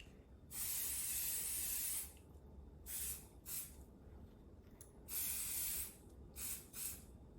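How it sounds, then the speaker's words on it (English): Several bursts of aerosol water and stain repellent spray hiss out close by onto a vachetta leather handbag: one long spray, then shorter puffs separated by quiet pauses. "It basically says spray 12 inches away and allow to dry."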